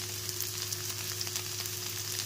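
Rice fries in a pan with a steady, close, crackling sizzle that keeps on evenly, with a low constant hum behind it and no talking.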